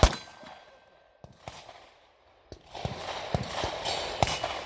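A rifle round striking a steel target at 40 yards on a shooting course, heard as a sharp metallic clang with a quick ringing tail, followed by further loud impact bangs amid outdoor noise.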